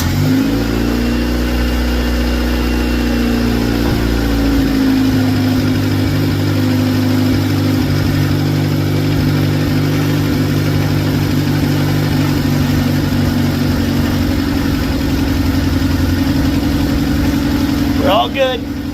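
A Honda car engine cranks and catches at close range, then settles into a steady, loud idle that runs on for the rest of the clip.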